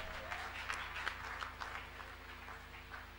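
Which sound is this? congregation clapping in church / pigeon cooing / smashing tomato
congregation clapping in church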